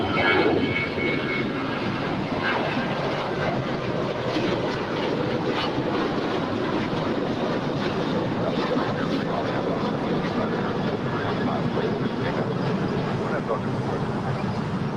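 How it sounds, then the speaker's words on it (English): Boeing 747 cargo jet departing Los Angeles International Airport, a steady, loud engine roar holding throughout, with faint commentary or radio chatter underneath. "We also have a Coletta Air 747 looking like she's going to be departing here."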